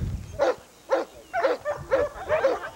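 A dog barks during protection dog training, five sharp, fairly close barks in a quick, uneven rhythm over a few seconds.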